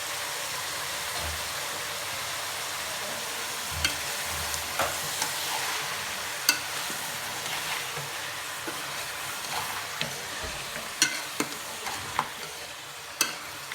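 Beef and cauliflower curry being stirred in a pot on a stove, a steady bubbling sizzle with scattered scraping clicks of the spoon against the pot, moderately quiet and continuous with no talking.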